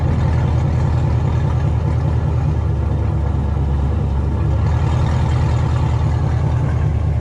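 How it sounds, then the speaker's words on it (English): A 2021 Chevrolet Camaro SS V8 holds a steady, loud, close idle with a deep low rumble and a slightly rough, uneven pulse throughout. "It got a rough idle right now."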